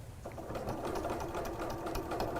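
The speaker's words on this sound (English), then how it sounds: "I'm going to stitch the other side of this horizontal one actually" Close, steady whirring of a sewing machine stitching woven windowpane fabric, a continuous even run of rapid needle strokes that lasts a couple of seconds with no voices.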